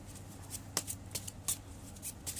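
Tarot cards being shuffled to draw an advice card, a few crisp riffling bursts close by and fairly quiet, with no speech.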